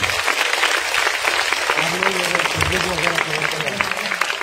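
Hearty crowd applause for a team at a grand charity welfare event, dense continuous clapping throughout, with a voice speaking over it in the second half.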